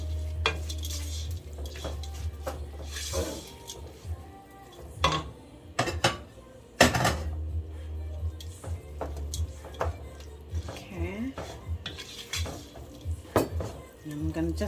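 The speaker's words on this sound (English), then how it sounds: "I'm mixing up my lentil peas." A spoon stirs lentils in a cooking pot for a lentil bolognese, with repeated scrapes and knocks against the metal, some sharp clanks and soft sizzling underneath, close and steady throughout.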